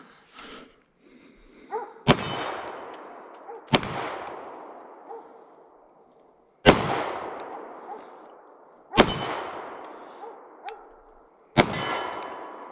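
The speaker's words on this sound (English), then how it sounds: "Very sweet shooting gun." An FN 509 Tactical pistol fired five times at irregular intervals on a range, each shot a sharp, loud crack followed by a ringing decay, with no talk between.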